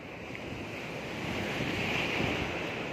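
Ocean waves at Pattinambakkam beach roll in as a steady, close roar of surf, swelling slightly louder midway, with wind buffeting the microphone throughout and no voices.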